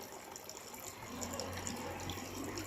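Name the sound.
water flowing from a pipe, pumped by a motor in a log fountain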